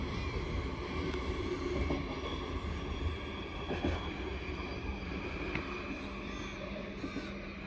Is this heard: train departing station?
yes